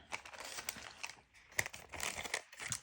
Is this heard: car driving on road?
no